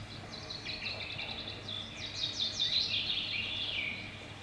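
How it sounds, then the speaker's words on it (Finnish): Birdsong outdoors on the Mount of Olives in an Easter play, with a run of bright chirps and trills that grows busier and louder toward the middle, heard alone over a soft background hum. "Kuunnelkaa linnun laulua."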